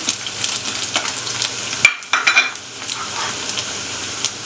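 Chicken fries in a pan as carrots and capsicum are stirred in, giving a steady loud sizzle with scraping, clattering stirs and a short pause midway.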